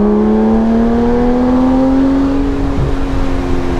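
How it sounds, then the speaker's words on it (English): A Porsche 911 GT3 RS engine drones loud and close from inside the moving car, a steady tone slowly rising in pitch as the revs climb, then dipping slightly near the end. "Can't believe I'm driving an RS."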